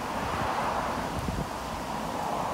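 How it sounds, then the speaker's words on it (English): Steady wind blowing across the microphone, a low continuous rumble and rush with no talking. "It's a very windy day today."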